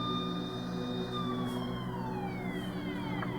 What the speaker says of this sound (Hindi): घर के बाहर एक गाड़ी आती है, पुलिस की गाड़ी।